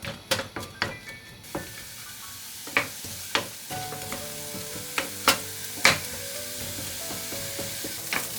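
Onions frying in oil in a pan, crackling with a bright steady sizzle, punctuated by sharp clacks and scrapes of a spatula stirring at an irregular pace.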